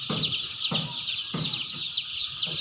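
Broiler chickens cluck inside a crowded poultry shed, with a rhythm of short repeated clucks about every half second over a dense bed of chirping from many birds.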